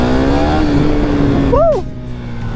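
A KTM Duke 390 motorcycle accelerates hard in second gear, its engine droning loud and close with a rising whine. The roar then drops away as the ride continues.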